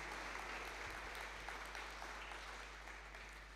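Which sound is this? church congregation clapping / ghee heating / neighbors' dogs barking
church congregation clapping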